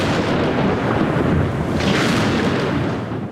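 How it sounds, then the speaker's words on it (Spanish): A thunderstorm breaks out, its deep thunder rumbling continuously and loudly over heavy rain, with a brighter crack swelling midway before the roar slowly fades. "Como simbolizando el significado de la reunión, estalla una fuerte tormenta."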